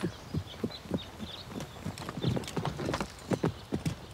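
A ridden horse's hooves clip-clop in a steady, close rhythm, with a few soft snorts and high whistly tones scattered over the beats and no talking.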